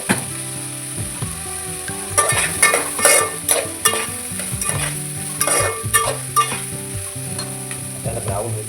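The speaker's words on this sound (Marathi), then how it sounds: "त्याला ब्राऊन होईपर्यंत आपण चांगलं परतून घेऊ" Chopped onion and green chilli sizzle in hot oil in a pan for a Maharashtrian chicken curry, with a steady loud hiss broken by repeated scraping stirs of a spoon.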